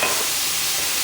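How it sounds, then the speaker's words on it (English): Thick bacon sizzling in a heavy duty pan while being stirred, a steady, loud, close frying hiss that fills the moment without a break. "you hear that sizzle"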